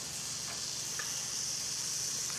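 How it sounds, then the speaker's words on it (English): Meat sizzling as it sears with curry paste in hot peanut oil, a steady close frying hiss with faint stirring clicks and no talk. "are you just really searing the curry paste on the meat?"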